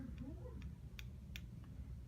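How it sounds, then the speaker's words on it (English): Beats X wireless earbuds snapping together magnetically, a few faint, sharp clicks in quick succession over a low background hum. "And then they do connect magnetically together."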